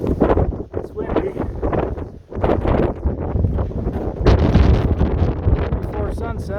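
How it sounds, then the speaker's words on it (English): Strong wind buffets the microphone in heavy, uneven gusts on a winter Adirondack mountain summit, with a roaring low rumble throughout and brief lulls between blasts. "It's windy."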